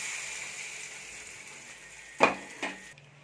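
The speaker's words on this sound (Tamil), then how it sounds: "துவையலை சேர்த்து நல்லா மிக்ஸ் பண்ணிக்கோங்க" Ground mucumucukkai chutney being stirred into a pan over a low, steady frying sizzle, with two sharp spoon-against-pan knocks near the end.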